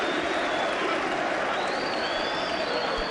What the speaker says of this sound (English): every single person is on their feet, applauding